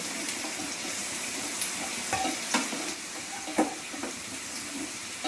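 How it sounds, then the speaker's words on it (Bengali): Pointed gourds deep frying in plenty of hot oil make a steady, bubbling sizzle, with a few soft clinks and stirring scrapes rising briefly above the constant hiss. "একদম ছাকা তেলে ভাজা হচ্ছে পটলগুলো।"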